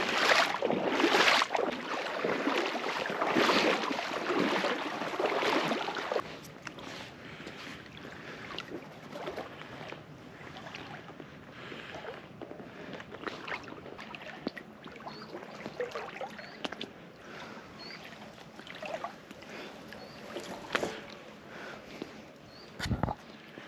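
Inflatable boat pushing out onto a lake with partly frozen edges, water and hull noise with wind buffeting the microphone, louder for the first few seconds, then a steadier, quieter wash with occasional bumps.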